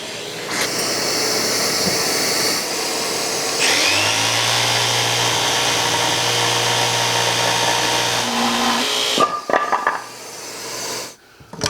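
A power saw cuts the end off a wooden sawbuck leg, giving a loud, steady motor whine with cutting noise for about ten seconds, then a few sharp knocks as it stops.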